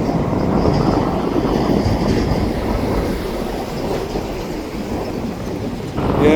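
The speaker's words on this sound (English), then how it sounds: "this is possibly the eastbound shop train for going out later" Train cars roll through a rail yard, a center beam car and empty gondolas among them, with a continuous rumbling clatter of wheels and faint squeals nearby and a brief louder swell near the end.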